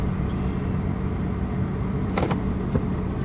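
A 2001 Mercedes ML320 idles steadily with a low, even engine hum close by, and a couple of faint clicks mark it being shifted into gear.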